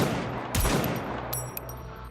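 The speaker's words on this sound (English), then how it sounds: "gunfire rings down on their side." Gunfire in the video game NIKKE, loud bursts of shots that sustain and mix over the whole stretch, with sharp spikes partway through and no talk.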